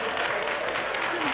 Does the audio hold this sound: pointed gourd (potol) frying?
no